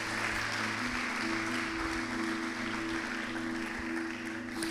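Church congregation applauding during a Portuguese-language sermon, a steady wash of clapping from many hands, fairly faint and distant in a reverberant hall, with a low steady hum underneath and no speech.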